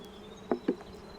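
Honeybees in an open hive, bursts of insect buzzing rising twice over a steady low hum, close and fairly faint, with no voices.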